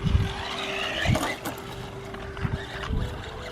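A Subotech BG1521 brushless RC car drives over gravel outdoors, its motor giving a steady high whine with crunching bursts from the tires, moderately close and continuous without talk.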